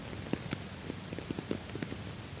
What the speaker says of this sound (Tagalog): Grabe ang lakas ng ulan oh